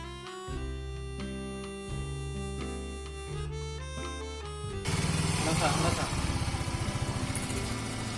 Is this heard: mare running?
no